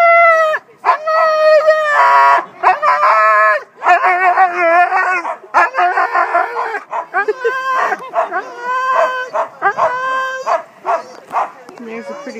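Dogs at an outdoor winter festival in a park, one of them howling with long wavering calls mixed with yips and whimpers, loud and close, with people talking alongside.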